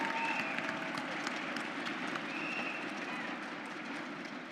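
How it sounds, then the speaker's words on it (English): A crowd at an environmental justice leadership assembly applauds a speaker with steady, fairly distant clapping that carries on evenly, voices mixed into the background. "Let's give him a round of applause."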